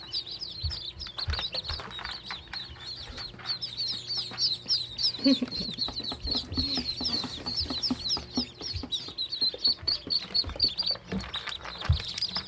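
Freshly unboxed call ducklings peeping constantly in a chorus of quick, high, faint chirps, with occasional soft clunks and handling noise close by.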